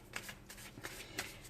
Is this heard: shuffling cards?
yes